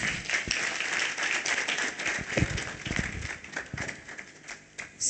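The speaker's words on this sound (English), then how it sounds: "A round of applause, please." An audience at a public lecture gives a round of applause for the panelists, a moderate and fairly faint burst of scattered clapping that thins toward the end.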